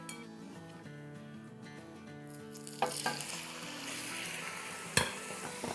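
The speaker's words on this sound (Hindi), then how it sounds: "इसे हमें जब तक फ्राई करना है जब तक कि इसका कलर ब्राउनिश ना हो जाए" Ground chicken breast mince sizzles steadily in a hot pan over medium-high to high heat, with a couple of sharp utensil scrapes and clinks; close and continuous with no talking and faint music underneath.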